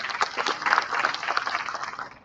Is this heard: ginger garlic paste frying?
no